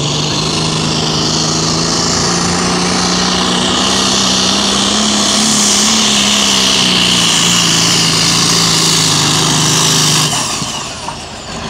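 A loud tractor-pulling tractor engine, 7.5 litres and 5500 rpm, roars steadily at high revs for about ten seconds, its droning pitch rising slightly and then easing off before cutting away.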